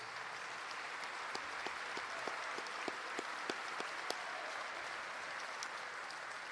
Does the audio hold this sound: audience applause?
yes